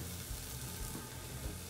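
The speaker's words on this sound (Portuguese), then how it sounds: "o refogado tá ficando pronto já" A Brazilian-style sauté of aromatics sizzles loudly in a pan just before lentils are added. The hiss is dense and steady and fills the whole moment, with no talking.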